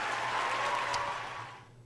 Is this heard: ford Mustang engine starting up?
no